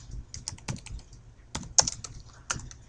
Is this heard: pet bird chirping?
no